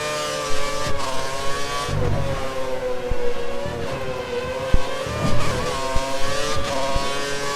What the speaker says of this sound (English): You hear the engine wailing like a banshee on those last two turns